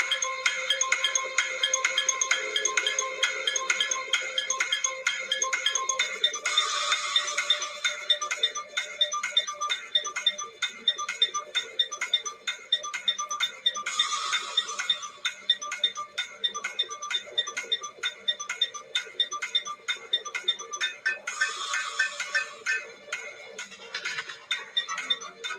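A countdown timer plays during a football-themed Guess Who game round, a steady electronic ringing pattern of repeating bright tones that swells in brief louder bursts and runs unbroken for the whole stretch with no talking.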